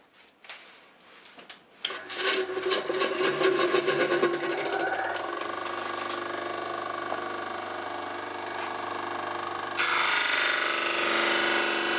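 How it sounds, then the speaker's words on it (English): A power sander grinds against the wooden neck tenon of a yellow Les Paul Junior guitar, starting with a few taps and then settling into a loud, steady, close buzzing whir that grows harsher near the end. "we'll just kind of sand this down until we get that square angle that we need there"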